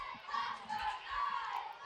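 Children in a baseball crowd cheer and shout for a player at an Education Day game of the Nashua Silver Knights against the New Britain Bees, a loud massed din of young voices rising and falling in swells.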